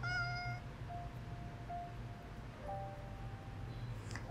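A cat meows in the Bluebird of Happiness game, a series of faint, drawn-out meow tones one after another over a low steady background hum.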